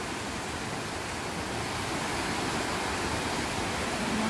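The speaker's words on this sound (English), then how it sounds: "Mouse Creek waterfall, so beautiful," Mouse Creek Falls, on the North Carolina–Tennessee border, pours in a steady, broadband rushing roar, even and continuous with no other sounds.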